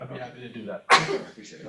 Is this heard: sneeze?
yes